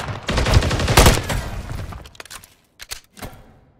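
Call of Duty gunfire crackles in a loud, dense burst of rapid shots, then thins into a few scattered separate reports that fade out.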